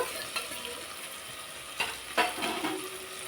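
Soft steady sizzle of cut potatoes frying in a pan with occasional scraping stirs and light clatter, close by and fairly quiet, no talking.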